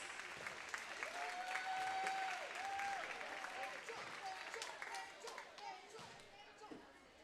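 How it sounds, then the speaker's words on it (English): A gym crowd at a varsity homeschool basketball game applauds a senior player, steady clapping and cheering over the full stretch with a raised, wavering voice or whistle and faint chatter underneath. "Please give Rachel a round of applause."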